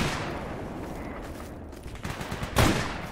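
Soldiers trade rifle fire in the S.T.A.L.K.E.R. Anomaly GAMMA mod, a muffled rattle of distant shots building to one louder close report near the end.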